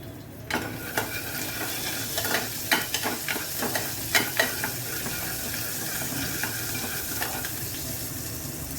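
Finely chopped garlic dropped into hot oil for dal tadka, a steady close sizzle with sharp crackles and stirring scrapes, busier early then settling into an even fry.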